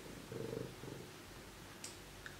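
Pet cat purring close by in a quiet indoor room, a soft low rumble in short bursts with faint incidental noises and no talking.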